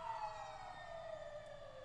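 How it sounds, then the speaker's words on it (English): Emergency vehicle sirens wail steadily outside, faint and muffled as if heard from indoors, holding a high continuous tone over low background rumble with no voices. "I'm trying to let them go by. Yeah. The sirens and shit."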